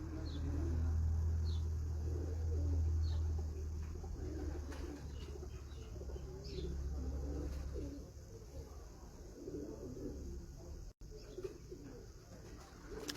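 Racing pigeons coo softly and repeatedly at a high-flying pigeon competition in Faisalabad, the low calls faint against a steady background hum and distant traffic.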